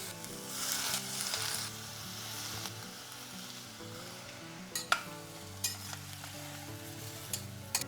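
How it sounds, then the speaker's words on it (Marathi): Tomato, brinjal and potato sauté in a pan, giving a continuous soft sizzle with occasional stirring scrapes and clinks of a spoon against the pan, close and unaccompanied by voices. "आता आपण हे परतून घेऊयात. त्याच्यात आपण पहिल्यांदा टोमॅटो घालूया."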